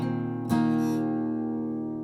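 An acoustic guitar with a capo rings out a chord, then strikes the full chord again about half a second later with a hammer-on, letting it sustain and fade, close and clear with no talking.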